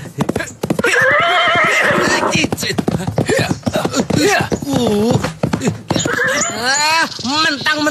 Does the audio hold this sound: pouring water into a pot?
no